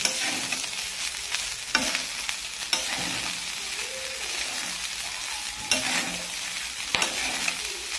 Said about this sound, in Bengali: লবণ দিয়ে নাড়াচাড়া করে